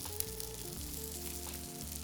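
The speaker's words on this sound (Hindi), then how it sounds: "तो सैलो फ्राई का मतलब ये है कि 1 फैट के अंदर ही" Food shallow-fries in a little fat over a low flame, a continuous even sizzle with a low tonal hum beneath it.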